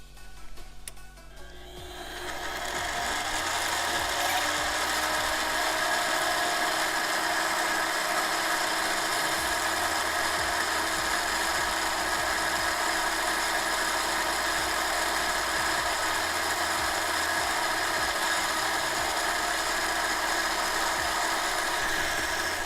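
A lathe spins up and runs steadily while a razor blade is held against a handmade ring's edge to peel off super glue, a loud continuous whine and hum with faint scraping.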